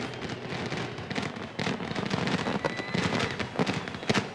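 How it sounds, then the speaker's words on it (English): Fireworks at an IndyCar victory celebration at Homestead in 2003, a dense continuous crackle of bursts and pops filling the background without clear separate booms. "This is a great celebration now. Love the fireworks."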